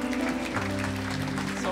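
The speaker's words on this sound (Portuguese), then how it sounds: "Dê uma salva de palmas, igreja." A church congregation at a worship service applauds in a continuous wash of clapping over sustained organ-like music tones, with no clear voices on top.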